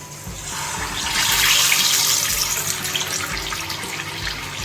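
Marinated fish dropped into hot oil, a steady loud hiss and sizzle that swells after the first second and then holds, close with no talking.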